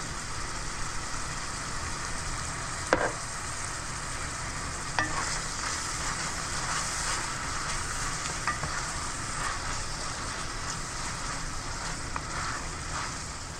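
Onions frying in a pan, seasoned with salt, pepper and mace, giving a steady continuous sizzle with a couple of faint clicks of stirring.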